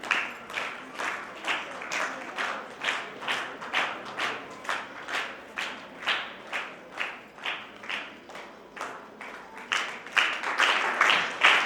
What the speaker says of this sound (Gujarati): આપણે બધા પ્રોત્સાહિત કરીએ તાળીઓથી